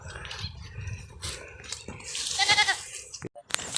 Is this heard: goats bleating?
yes